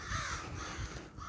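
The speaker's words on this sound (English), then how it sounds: "oh, the crows, yes, finally" Crows caw outdoors in a short burst of harsh, repeated calls at moderate distance, fairly faint and heard alone without speech.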